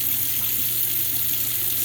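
Hot tap water pouring steadily into a cooking pot, a continuous close rushing hiss that stays even from start to finish with no talking.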